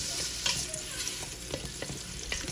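Onion and garlic sautéing in cooking oil for pork adobo, a steady close hiss of frying with repeated soft stirring scrapes and clicks from a spatula, no voices.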